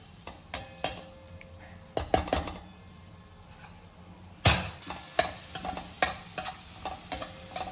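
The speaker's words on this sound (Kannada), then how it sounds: "ಇವು ಸ್ವಲ್ಪ ಕೆಂಪಾಗುವವರೆಗೆ ಹುರ್ಕೋಬೇಕು" Dry fruits roasting in a pan for laddu, stirred with a spoon: repeated scraping clinks and a faint sizzle, irregular strokes close up, with no talking.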